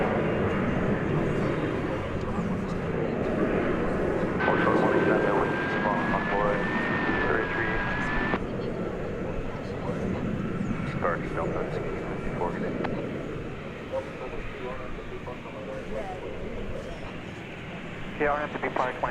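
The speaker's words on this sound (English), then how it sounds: "that Delta plane taking off right behind its brother or sister" A 21-year-old Delta Airbus A319 taking off at DFW Airport, a broad, loud jet roar filling the scene continuously and slowly easing, with a thin tonal whine and other airport noise.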